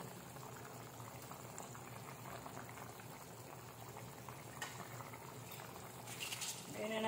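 A pot of Filipino beef stew, nilagang baka with beef cubes and vegetables, bubbles at a steady rolling boil close by, with a brief clink and splash of something added near the end.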